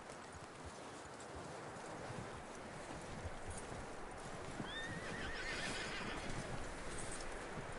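In the Red Dead Redemption 2 video game, a horse whinnies once amid steady clip-clopping hooves and a broad wind-like outdoor wash, close and fairly faint overall.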